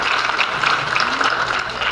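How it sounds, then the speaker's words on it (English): A crowd at the 2016 New York Democratic Convention gives a round of applause, a steady wash of many hands clapping at moderate distance, holding evenly throughout. "I want to give you another round of applause for you assuming this important position"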